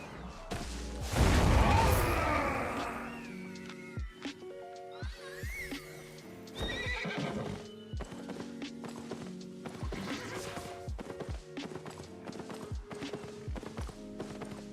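Albion Online game audio of a tier 5 horse with a loud neigh early on, then hoofbeats and clopping mixed with sharp in-game impact and effect sounds, no talk.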